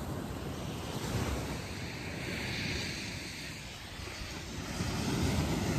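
Ocean surf at the shore on Jeju Island rolls in as a steady, broad wash of waves, with strong wind buffeting the microphone and building toward the end.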